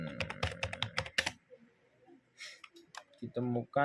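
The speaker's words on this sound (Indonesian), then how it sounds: "Terus kemudian kita ketik lagi" Typing on a computer keyboard: bursts of quick, close key clicks, pausing in the middle and resuming near the end, with a person speaking in the background.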